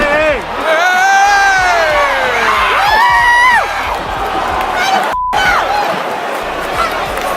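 Boston Bruins hockey fans yell and shout in a packed, rowdy crowd during a fight in the stands, loud overlapping voices and whoops rising and falling, with a brief cut near the end.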